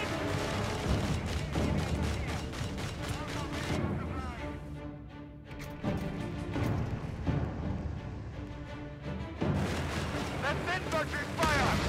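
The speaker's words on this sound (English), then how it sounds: "That's infantry fire!" Infantry small-arms fire in the Company of Heroes 3 video game, a dense rattle of rapid shots with heavier booms, loud throughout with a brief lull midway, mixed with background game sound.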